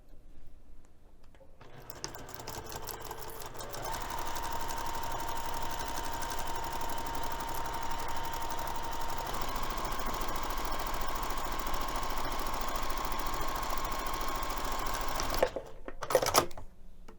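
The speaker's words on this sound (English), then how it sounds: "We're going to be sewing the top edge only using 1/4 of an inch seam allowance." A sewing machine runs steadily for a long stretch, stitching the top edge of fabric pocket pieces with a quarter-inch seam, a close continuous mechanical whir that stops abruptly near the end with a couple of clunks.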